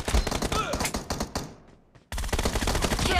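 Rapid automatic gunfire rattles loud and dense in a team deathmatch shooter game, dropping out briefly before another sustained burst resumes.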